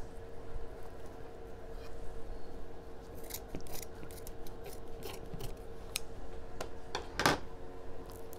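Scissors snip through wreath-making material for a small sunflower wreath on a Dollar Tree form, a few quiet, close cuts and clicks with one sharper snip near the end against a faint background hum.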